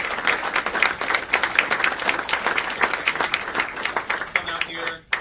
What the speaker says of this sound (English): And they deserve a big round of applause.